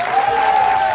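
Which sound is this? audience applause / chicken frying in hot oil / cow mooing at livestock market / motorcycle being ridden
audience applause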